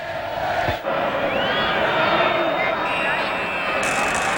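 A football stadium crowd of 46,000 murmurs and roars in a steady dense wash before kickoff of a 1969/70 Chelsea v Arsenal match, with scattered whistles and shouts rising through the sustained noise.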